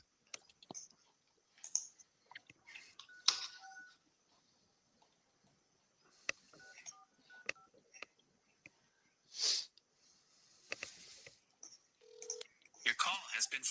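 A telephone dials out a call, giving a string of short, faint electronic tones and button clicks at uneven intervals, with quiet voices nearby.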